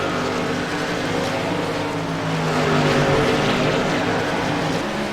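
Race car engines in a racing video game drone loudly and continuously, a dense sustained roar with a slight swell partway through and no break.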